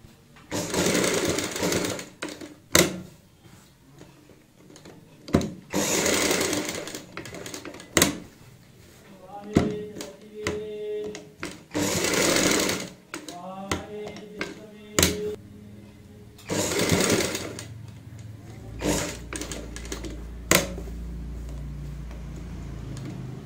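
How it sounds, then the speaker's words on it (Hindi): A sewing machine runs in repeated bursts, double-stitching a kurti neckline, its rapid mechanical chatter starting and stopping with short pauses between runs and occasional clicks and handling noises. "यहाँ पे दोस्तों डबल सिलाई लगा लेते हैं हल्का गैप रखते हुए।"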